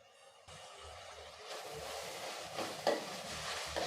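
Tomato with ginger garlic paste sautés in a pan for an egg curry, with a steady soft sizzle and intermittent scraping stirs of a spoon, close and alone.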